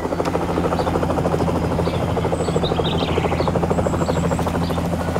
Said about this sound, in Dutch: Vlieg je met me mee in mijn helikopter?